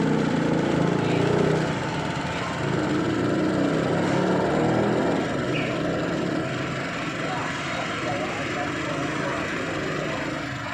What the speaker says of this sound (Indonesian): Kita akan tes pakai gerinda.